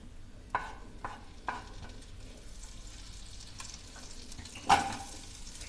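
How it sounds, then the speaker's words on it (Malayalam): Chopped onions sautéing in a pan with melted fat for pasta, a soft continuous sizzle broken by several sharp stirring scrapes and knocks of a spoon against the pan, close by, no voices. "അതൊന്ന് ചേർത്ത് കൊടുത്തതിന് ശേഷം നമുക്ക് നന്നായിട്ടൊന്ന് വഴറ്റാം."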